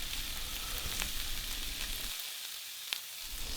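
Beef tenderloin and skin-on, knife-pierced garlic cloves sizzle steadily in a hot pan, a close, dense frying crackle with occasional sharper pops.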